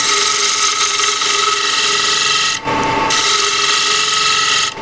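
A bowl gouge takes light cuts on a wooden bowl spinning on a lathe, making a steady, loud continuous scraping rasp with a brief dip partway through, no speech.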